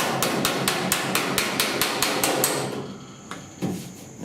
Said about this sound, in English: Here I'm just using a good old flat hammer.